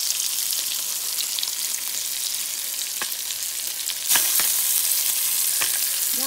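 Salmon frying in a pan after about five minutes of cooking, a close steady sizzle with a few sharp clicks and a louder burst of spitting midway as it is flipped.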